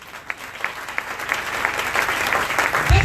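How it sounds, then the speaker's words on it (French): A church congregation claps to acclaim the Lord, starting with a few scattered claps that swell into dense, steady applause close by, with a low voice sounding at the very end. "Est-ce qu'on peut acclamer le Seigneur?"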